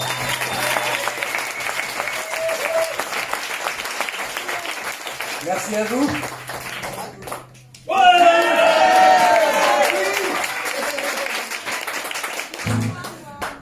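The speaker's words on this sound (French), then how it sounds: "Vous pouvez l'applaudir bien fort" Concert audience in a small café venue clapping and cheering for a band member, with a performer's voice and instrument tones mixed in; the applause surges again loudly partway through, then thins out.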